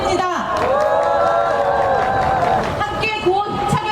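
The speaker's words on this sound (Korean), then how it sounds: "박수 부탁드립니다" Audience applause at a Korean public education workers' general strike rally, a dense wash of clapping and crowd noise filling the whole stretch, with a voice and tonal sounds rising over it.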